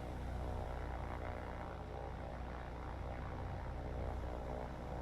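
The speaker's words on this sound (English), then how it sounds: "a lot of planes for our Hurricanes to deal with" Steady propeller drone of WWII-era aircraft flying overhead during a naval air attack in the War on the Sea game, a continuous engine roar with no talk.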